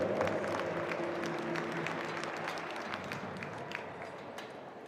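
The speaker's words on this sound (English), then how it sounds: "How about a big round of applause right here?" An audience at a youth sports track and field championship gives a steady, full round of applause to welcome the CEO of Youth Sports Canada. The clapping is dense and sustained, with a faint crowd murmur beneath it.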